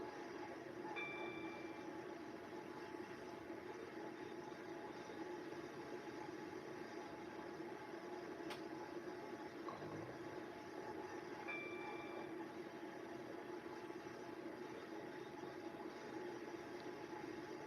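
A metro train in the game Stepford County Railway rumbles along steadily with a constant low drone, a faint clack and a couple of brief high tones, sounding enclosed and even.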